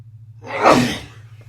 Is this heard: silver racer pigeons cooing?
no